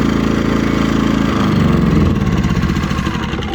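An Ecoflow Smart 1.6 kW gas-powered generator drones loudly up close, its engine note shifting and turning rougher and uneven partway through after the gas bottle is shut.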